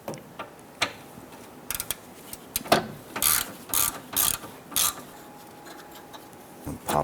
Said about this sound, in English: Use a 10mm socket, loosen and remove this bolt right here, holding our AC line